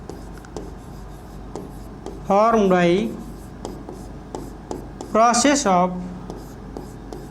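Marker or chalk scratching on a board during a biology lecture on the endomembrane system, heard as short rubbing and tapping strokes between two spoken phrases from a teacher.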